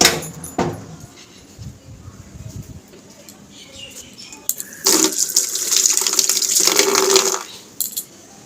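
Tap water runs into a vessel for fetching drinking water at home, a loud broadband gush lasting a few seconds after quieter clatter and handling sounds, then cutting off.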